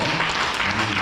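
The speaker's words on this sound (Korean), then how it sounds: "우리 선생님 모두에게 박수 치면서" Audience applause at a panel discussion session of a sustainability lecture series in Pyeongtaek, dense steady clapping filling the hall for a brief moment with no pause.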